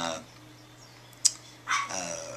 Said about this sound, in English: you'll hear my dog in the background